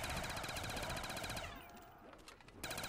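A Mac submachine gun firing in Black Ops custom zombies on the Kowloon map: a rapid, dense automatic stream that cuts off midway, then picks up again after a short gap filled with scattered game noise, fairly faint overall.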